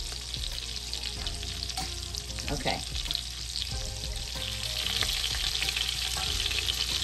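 A beef pot roast simmers on a stovetop, giving a close, steady bubbling sizzle with small pops and stirring clinks, and a voice speaks briefly.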